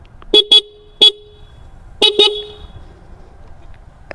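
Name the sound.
dual horns on a Suzuki Gixxer motorcycle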